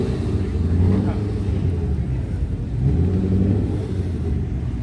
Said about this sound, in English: we've got an old Boss 290 Falcon FPV coming in